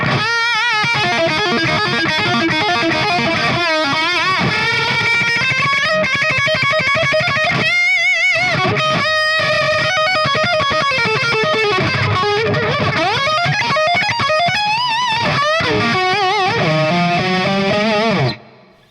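An electric guitar with effects plays a long, busy solo, starting in B, over a full band, bending and running through notes steadily until it stops abruptly near the end.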